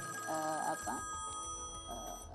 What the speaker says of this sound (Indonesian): ada yang telepon, kita angkat dulu, boleh ya?